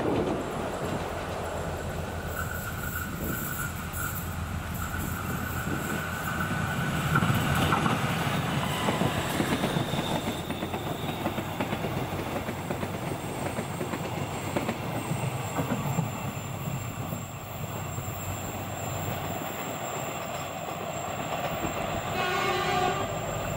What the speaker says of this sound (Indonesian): Yang akan melintas sebentar lagi adalah KA Fajar Utama Solo dari Pasar Senen tujuan